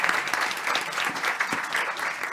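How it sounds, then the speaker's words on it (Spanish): Audience applause at a panel event on agtech and its global reach, a dense, close burst of clapping that holds steady for the whole stretch. "Un aplauso, muchas gracias,"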